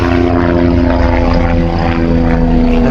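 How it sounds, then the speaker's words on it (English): An aircraft engine drones steadily overhead during an outdoor walk, loud and continuous with a strong low hum throughout and no speech. "That's a helicopter going by."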